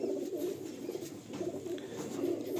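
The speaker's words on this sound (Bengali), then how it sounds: "অনেকগুলো বাচ্চা পায়রাই রয়েছে।" Andhra and Malwai pigeons coo softly in a loft among many young birds, a steady low murmuring chorus that continues throughout without speech.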